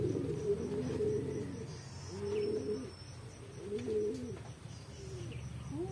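Racing pigeons cooing during a pigeon race, soft repeated throaty coos in several spaced phrases, fairly near but quiet, with faint chirps in the background.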